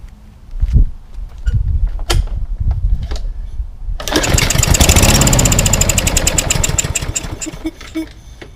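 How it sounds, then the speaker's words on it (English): A 2-cycle lawnmower engine, primed with gas poured into the carburetor, fires up after a few quiet knocks and pulls, then runs loud and steady in a close, buzzing idle. "let's shoot some 2-cycle gas in the carburetor and see if it'll fire up."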